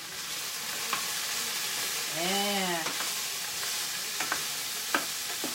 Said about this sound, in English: You hear that pan sizzling?